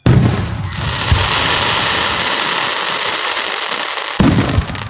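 Fireworks burst loudly overhead in a long, dense roar of crackling explosions, with fresh booming blasts near the start and again toward the end.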